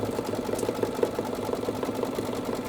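An embroidery sewing machine running a triple stitch on fabric, a steady rapid mechanical chatter with regular needle ticks, close and continuous, no talking.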